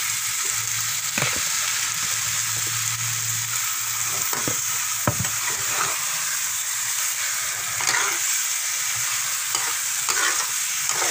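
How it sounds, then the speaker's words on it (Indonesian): Fish head for a catfish head curry, with turmeric in the pan, fries in hot oil: a steady close sizzling hiss runs throughout, punctuated by scattered clicks and scrapes of stirring. No voices. "Baru kita masukkan ikannya."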